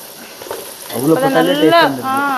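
Ground masala fries with onions for chicken biryani in a close, crackling sizzle that swells as it is stirred, and a voice talks over it in the second half.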